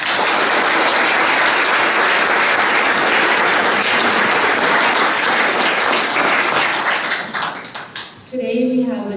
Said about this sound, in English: Let's show our appreciation to Kathy by leading applause.